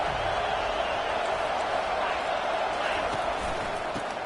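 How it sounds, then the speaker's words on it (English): Stadium crowd noise from a college football video game forms a continuous, even roar that holds steady at moderate loudness throughout. "Listen to the crowd energy here in the early going."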